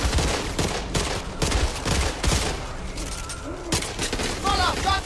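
Rapid, loud shots crack in quick succession in the zombie shooter Back 4 Blood, a steady barrage with voices calling out between bursts.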